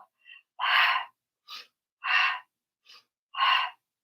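Loud, forceful exhaled breaths during an abdominal workout, five bursts in a steady rhythm with short quieter inhales between them, close and alone without talk.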